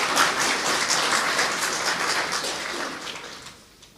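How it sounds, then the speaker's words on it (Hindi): A seated audience at a spiritual gathering breaks into dense, continuous applause from many hands, holding steady before thinning and fading out near the end, with no talk over it. "तो अपने लिए खास ताली बजाओ"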